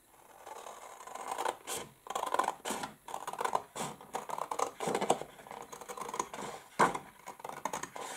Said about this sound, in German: Also auch wieder die Falzlinie genau nachschneiden bis hier runter.